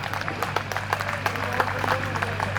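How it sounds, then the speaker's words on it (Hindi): An audience at a Hindi poetry gathering claps, scattered distinct hand claps over a steady electrical hum and some background voices. "एक बार जोरदार तालियां।"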